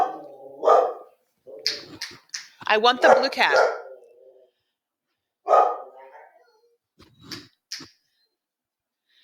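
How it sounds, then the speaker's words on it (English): A pet dog barking indoors at home in short, sharp bursts with pauses between, close and fairly loud, interleaved with a person talking. "Sorry about my dog barking in the background."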